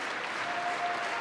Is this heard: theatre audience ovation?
yes